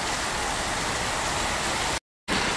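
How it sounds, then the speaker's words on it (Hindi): Heavy monsoon rain falls in a constant, loud roar of close, dense patter, cut by a brief moment of total silence near the end before the downpour resumes. "ये देखो बारिश कितनी भयंकर वाली बरस रही है"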